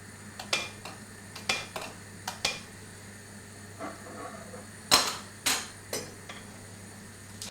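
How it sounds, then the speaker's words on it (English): A spoon scrapes and clinks against a metal pot while stirring pumpkin soup ingredients with water, in irregular strokes, with a low steady hum underneath and no talking. "And mix all ingredients with water."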